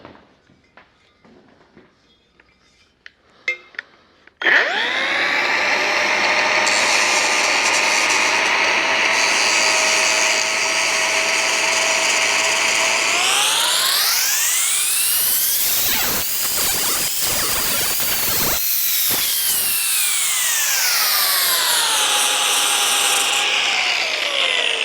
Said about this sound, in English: I'm going to go ahead, clean those welds up. I've started grinding them back already.